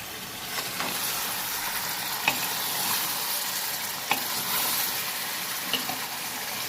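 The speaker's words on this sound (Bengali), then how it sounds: "এবার ভালো করে নেড়ে চেড়ে নেব" Goat meat, potatoes and fat are stirred in a hot pan with a soft, continuous sizzle, broken by a few sharp spatula knocks against the metal at irregular intervals, heard up close with nobody talking.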